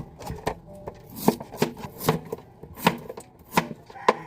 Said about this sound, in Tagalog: Imo ra na siyang hugasan og maayo nya imuhang dukdukon.